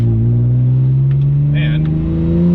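A BMW E46 M3 with a Valvetronic muffler, valves closed, revs with a steady rising engine drone and low exhaust hum, close and loud throughout.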